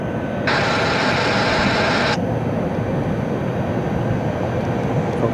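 Steady loud roar of airplanes on an airport ramp in Cleveland in rain and fog, with a bright hissing band rising for a couple of seconds before settling back into the constant rumble.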